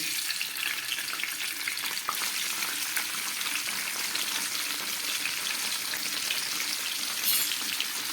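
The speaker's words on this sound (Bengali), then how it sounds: "এই তেলের মধ্যে আমি একটু পনির ভেজে নিচ্ছি" Cubes of paneer frying in hot oil in a home kitchen, a steady close hiss and crackle that runs on without a break, with a faint clink partway through.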